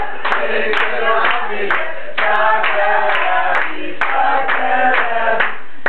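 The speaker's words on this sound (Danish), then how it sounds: "Vi klapper hænderne." Hands clap in a steady rhythmic beat, close and loud, under singing voices in a group song game.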